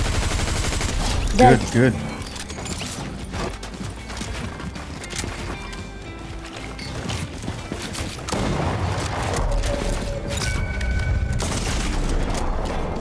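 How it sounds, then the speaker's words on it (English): Gunfire in the Fortnite video game, rapid bursts of shots near and far over game music and effects, with players talking excitedly throughout. "The guy keeps shooting."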